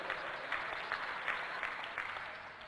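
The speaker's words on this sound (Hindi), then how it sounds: "तो एक बार जोरदार तालियां आपके स्वयं के लिए।" Steady applause from an audience at a political discussion event in Murwara, with dense clapping filling the space at moderate distance and a few brief louder swells, no voices over it.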